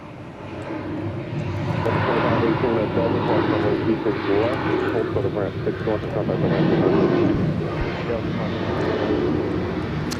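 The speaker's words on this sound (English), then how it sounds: "The 737-800 will be our next arrival here. And again, we don't get to see the arrivals touchdown. We just get to see them taxi a bit in front of us." A Boeing 737-800 airliner taxis after arriving at Atlanta airport, its jet engines a steady broad roar that swells slightly midway, heard from a spotting position with a voice talking over it.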